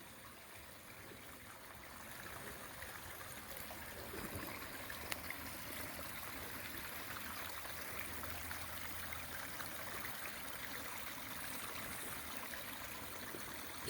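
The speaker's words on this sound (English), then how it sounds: "So here's the Pondless Waterfall." Steady broadband rush of water running over gravel and stones in a pondless backyard waterfall, continuous and moderately close, with no voices over it.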